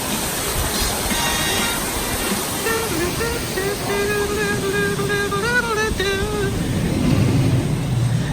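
A junior family roller coaster rattles along its track at Dollywood, a steady loud rumble with rising and falling wheel squeal and whine throughout, no talk over it.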